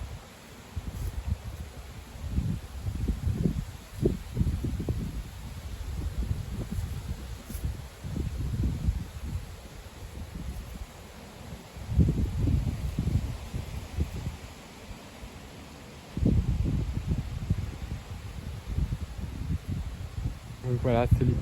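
Powerful wind gusts thrash through tree leaves in repeated surging waves of loud rustling, easing briefly between bursts, with a faint insect-like buzz near the end.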